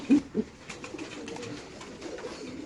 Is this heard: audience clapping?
no